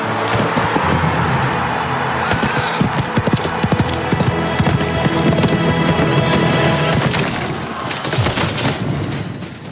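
Horse hooves clip-clop steadily and loudly as a horse is urged into motion, with a brief whinny and some sharp cracking noises mixed into the busy, close-up clatter.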